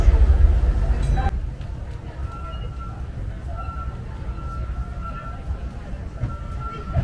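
Steady low rumble of the Disneyland Railroad train in motion, with faint clatter and a high tonal whine, plus a brief louder burst at the start.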